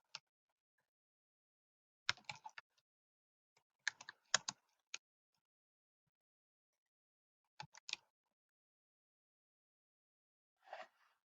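Bursts of computer keyboard typing with quick clusters of light clicks separated by pauses, close and fairly quiet, with no voices.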